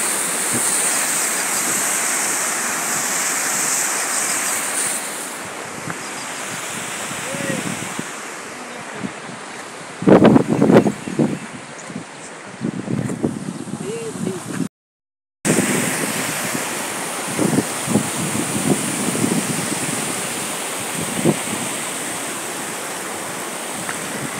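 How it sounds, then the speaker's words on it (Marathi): A waterfall at Khamkarwadi lake pours down in a constant broad rush of water, mixed with gusty wind buffeting the microphone, while a voice talks intermittently over it. "अशा पद्धतीनं इकडं हा वॉटरफॉल आहे"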